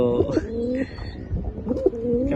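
A king cross pigeon gives two rolling coos up close, one after the other, inside a pigeon farm at night.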